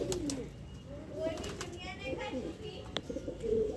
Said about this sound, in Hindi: देखिए गाइस मैं कबूतरों खोल दिया